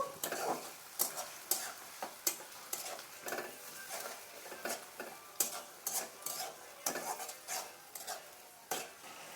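Ginger, garlic and tomato masala sautéed in a pan for a spicy Bengali chicken curry, a soft sizzle under sharp, rhythmic clinks and scrapes of a metal spoon against the pan, with no speech.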